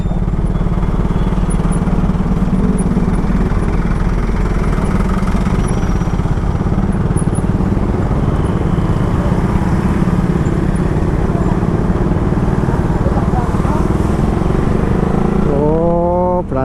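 Motorcycle and engine traffic rolling past a roadside checkpoint near Prambanan, Central Java, a continuous loud droning rumble of passing vehicles, with a faint voice right at the end.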